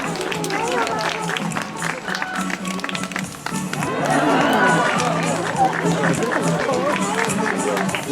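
A zoo audience applauding a sea lion at a sea lion show: a crowd claps loudly and continuously, swelling midway, while a voice keeps talking over it.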